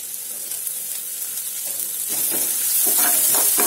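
Chopped onion and ginger-garlic paste frying in a pan, a steady hiss that grows louder and brighter toward the end as stirring bursts break through.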